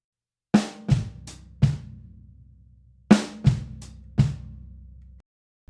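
A drum kit plays a slow groove of strong snare accents and quiet ghost notes with the bass drum landing on the soft snare strokes, crisp hits ringing in two short phrases.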